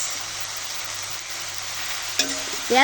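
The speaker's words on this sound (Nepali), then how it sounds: "मासु भोट्दै मासुको आवाज कस्तो आइरहेको छ सुन्न सक्नुहुन्छ" Goat meat frying in a pan outdoors at sunrise: a continuous even sizzle and hiss, with brief stirring or vocal sounds rising near the end.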